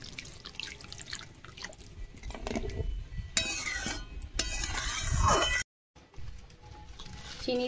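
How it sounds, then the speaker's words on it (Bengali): Water is poured into a cooking pot of Bengali vegetarian taro curry, giving dripping and splashing in short bursts alongside faint clinks of utensils against the pot. "আর একটু জল দিচ্ছি।"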